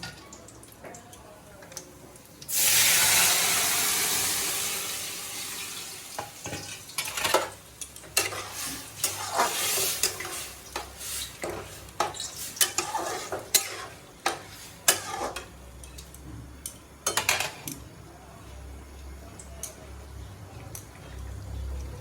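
Shukto vegetables poured into a hot wok set off a loud burst of sizzling, followed by rhythmic spatula stirring and scraping against the pan, close by with a continuing low fry underneath.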